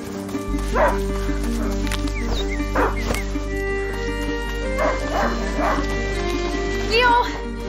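A hunting dog in the video game A Plague Tale: Innocence gives a run of yips, short barks and whimpers, several separate bursts over a steady game soundtrack.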